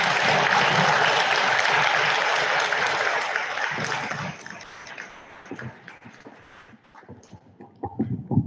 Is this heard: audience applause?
yes